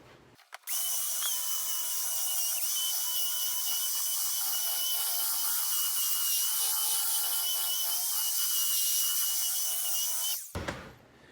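Sanding a live edge wood board with a power sander, a loud continuous high-pitched whirring drone that starts abruptly and runs steadily for about ten seconds before cutting off.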